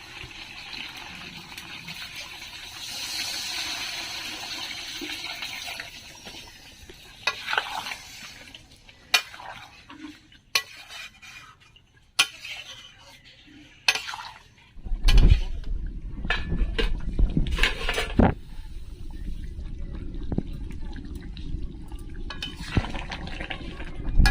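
Water poured into chicken curry in a cooking pot, a soft running splash that gives way to louder sizzling and bubbling with scattered clinks, close and continuous.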